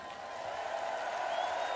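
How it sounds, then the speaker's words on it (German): Large festival crowd at a Summer Breeze 2022 metal concert roars and applauds in a continuous wash of cheering and clapping, loud and sustained, with faint whistles rising near the end. "einen riesen Applaus für dieses wunderschöne Festival hören."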